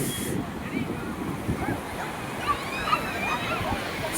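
Sea waves wash onto a crowded beach after sunset in gusty wind, a steady surf roar with buffeting on the microphone and people talking nearby.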